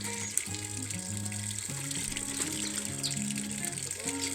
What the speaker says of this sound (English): you have to wash the meat very nicely so that you don't keep it in the cooking pot when it has blood